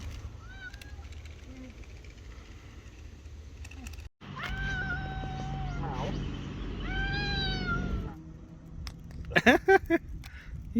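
Several cats meow repeatedly while they are fed in a Japanese park, with clear, close calls in bursts. An engine hums steadily underneath, and voices come in briefly near the end.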